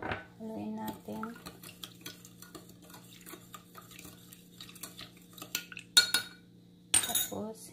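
Sugar being stirred into warm milk for bread dough, a utensil clinking and scraping against a bowl in irregular taps, quiet and close, with a sharp louder clink near the end and faint background hum.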